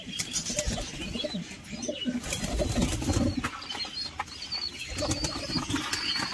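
Pigeons cooing close by, with wings flapping and rustling in bursts amid a busy outdoor background.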